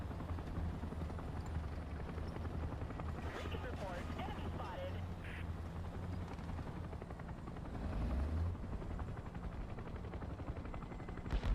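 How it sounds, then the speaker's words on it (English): Helicopter in the tank game War Thunder, ground realistic battle, a steady droning rotor and engine hum running throughout under spoken commentary, with distant gunfire-like thumps in the mix. "The helicopter's doing an interesting spotting job for us."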